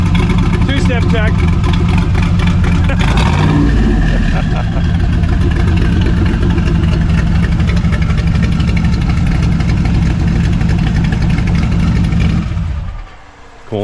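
A 1972 Chevelle with a 427 big-block engine idles and revs loudly during a two-step check, a deep rumbling burst that swells and then cuts off abruptly near the end, with voices talking over it.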